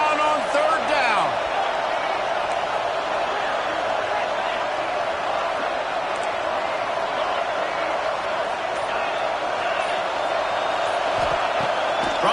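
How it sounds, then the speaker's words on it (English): Roaring stadium crowd noise from the College Football 26 video game, a dense, sustained wall of cheering at a 3rd-down play in a Gators game, steady and loud throughout with a commentator's voice running over it. "This crowd unhinged, trying to make sure the Gators don't back down on 3rd down."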